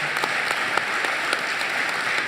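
Steady applause from a studio audience at a French radio debate on real estate networks, dense clapping filling the whole stretch at even volume without a break.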